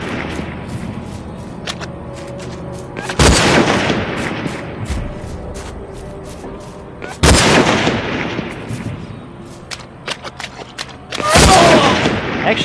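Three loud, sharp gunshots ring out at spaced intervals in the shooter game Hunted, each followed by a long echoing decay over a quieter ambient background.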